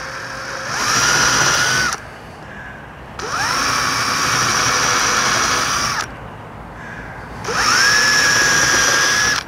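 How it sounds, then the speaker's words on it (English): A power drill whirs in three bursts drilling pilot holes into softwood, each spinning up to a steady high whine, with short quieter pauses between them. "Then we'll drill these other pilots for the fixings."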